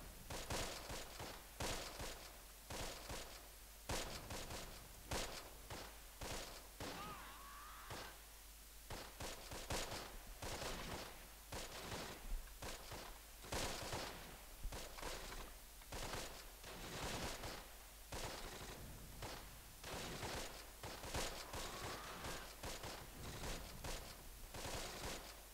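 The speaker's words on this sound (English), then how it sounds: "Start shooting your target there." Dense, continuous gunfire from the video game Close Combat plays throughout, with rapid overlapping rifle and machine-gun bursts. The shots are sharp and busy but sit fairly low in level, and nobody speaks over them.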